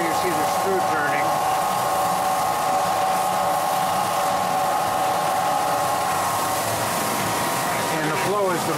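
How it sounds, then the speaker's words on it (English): Pet food bone separator with a screw turning in its inlet hopper: a loud, steady mechanical drone with a tonal whine and faint rhythmic grinding, running throughout close by, with a voice talking over it. "And the inlet hopper, there you see the screw turning"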